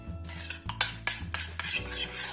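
A utensil stirs eggplant crepe filling in a pan, scraping and clinking against the metal in a steady rhythm of strokes, close and fairly quiet, with no voices.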